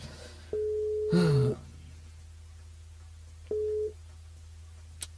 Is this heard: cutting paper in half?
no